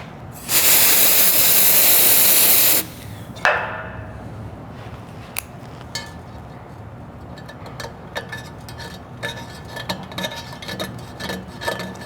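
Freeze spray is blasted onto a stuck exhaust part on a 1967 Barracuda, giving one loud, close hiss of about two seconds. Scattered light taps and clicks follow in a quieter workshop.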